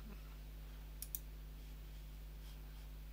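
A computer mouse clicking on an icon, two quick sharp clicks close together against a quiet room hum, followed by silence.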